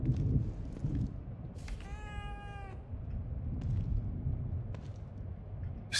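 Cat meowing in the horror video game The Evil Within 2, a single clear drawn-out meow over low rumbling ambience, with faint thuds around it.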